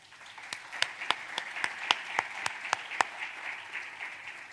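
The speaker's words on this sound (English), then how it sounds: "Another round of applause." Audience applause after a performance of Rwandese cultural dance at a stakeholder forum, a broad steady wash of many hands with a few sharp louder claps standing out, moderately distant and fading slightly toward the end.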